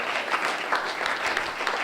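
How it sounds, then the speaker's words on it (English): Steady audience applause for a volunteer at a magic lecture at the Magic Circle in London, a dense, continuous patter of many hands clapping throughout. "Give him a round of applause"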